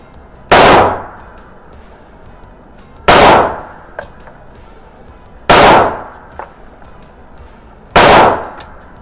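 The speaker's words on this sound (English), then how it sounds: "Five shots, that felt like five." Four sharp, loud gunshots from a ported CZ P10C pistol ring out about every two and a half seconds. Each crack is followed by a short decaying ring, with faint clinks between the shots.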